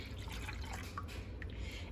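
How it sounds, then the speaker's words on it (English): Canned tomato sauce pours steadily into a bowl for red rice with sausage, a soft continuous liquid trickle with faint drips, close and quiet, with no talking. "I'm going to go ahead and also pour this inside of the bowl"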